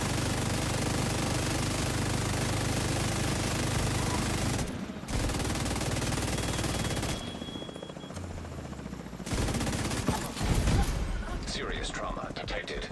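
Sustained automatic gunfire from the shooter game The Division 2 roars almost without pause, with brief breaks and a few heavier hits later, while a voice speaks intermittently over it.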